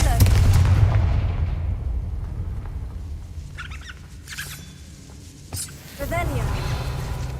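Confringo, the fiery blasting spell from the Hogwarts Legacy video game, goes off in loud, rumbling explosive bursts amid busy game noise, with a voice speaking over parts of it.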